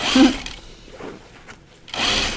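A sewing machine stitching fabric for a laundry basket pattern runs in two short bursts, one at the start and one at the end, with a quieter pause between them.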